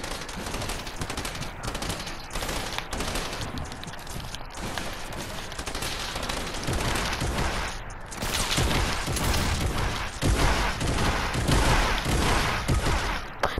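Rapid automatic gunfire in a video game scrim, a long relentless stream of shots with brief gaps, loud and close, shots striking through building structures, running throughout without voices.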